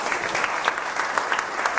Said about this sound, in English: Big round of applause for Joanne.